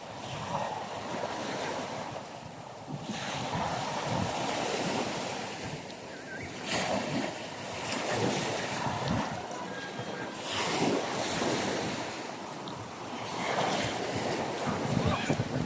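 Continuous surf washes and rolls along a seashore near a river mouth, swelling and easing in waves for the full length, with wind noise buffeting the microphone.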